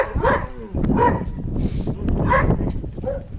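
A dog barks repeatedly at close range in a village yard, loud, sharp woofs coming in a quick irregular series with brief gaps between them.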